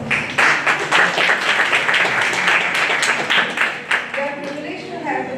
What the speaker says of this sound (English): Let us welcome them to the round of applause